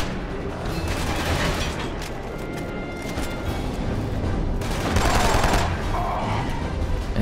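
Gunfire exchange in the first-person shooter Killzone 2, dense sustained bursts of shots with heavier booming surges near the end, loud and continuous, with no talk over it.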